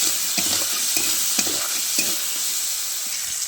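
Potatoes and shrimp frying in oil with a steady bright sizzle, while a utensil scrapes and stirs them in regular strokes about every half second, close and fairly loud, no talking.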